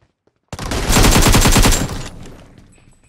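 Automatic gunfire in a shooting video game: a loud, close burst of rapid rattling shots lasting over a second, followed by a fading tail.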